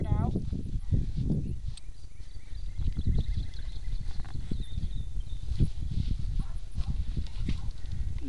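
Dirt being picked from a horse's hoof, worked heel to toe, with scraping and scuffing sounds close by over background noise; a person talks during it.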